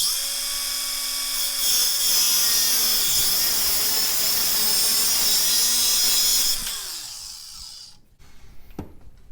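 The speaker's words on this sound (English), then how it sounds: "then I'm going to use a angle grinder here so I can keep it lined up" An angle grinder cuts through a Coleman mini bike part clamped in a vise, a loud, close, sustained high whine that runs several seconds before winding down and stopping, followed by a few light clanks.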